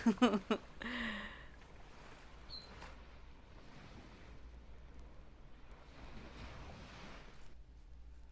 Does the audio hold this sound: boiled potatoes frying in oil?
no